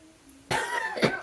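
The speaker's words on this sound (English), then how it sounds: "I got a gross cough." Two sharp, close coughs from a person, the second following about half a second after the first, breaking up an otherwise quiet home setting.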